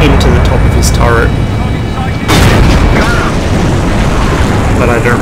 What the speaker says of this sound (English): the penetration on the Centurion's gun is so good I just go straight through his turret face anyway